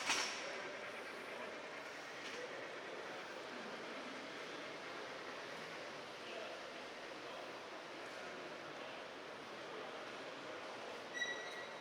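N gauge model trains run steadily across a North American mountain-and-valley layout at a model railway show, a soft continuous rolling rumble with faint wheel squeal and hall ambience, no talk.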